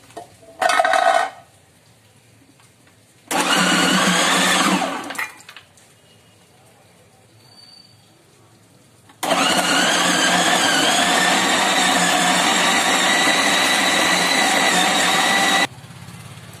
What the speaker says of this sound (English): to this food processor. Now we have to grind all of them into a smooth paste.